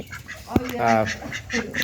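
A few short honking quacks from ducks close by, one sharp call followed by a longer nasal one, with quieter calls after.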